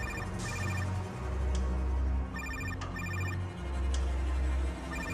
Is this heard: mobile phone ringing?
yes